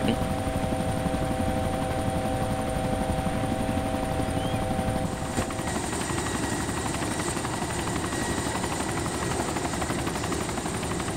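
A helicopter in the video game DayZ flies close and loud, its rotor thrum and turbine whine running continuously with a slight shift in tone midway, with no voices over it.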